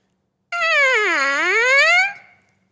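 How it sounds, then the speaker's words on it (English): A player buzzes lips into a bare silver trumpet mouthpiece, giving one loud, close, sustained nasal tone that swoops down in pitch and back up before stopping abruptly. "So to make it make a sound, we buzz like this."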